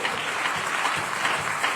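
A church congregation applauding loudly, dense steady clapping from many hands filling the room without pause.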